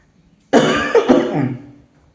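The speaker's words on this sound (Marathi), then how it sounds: "आता कोरडा खोकला बी चालू झाला आहे" A single close, harsh dry cough with a couple of quick bursts, then silence.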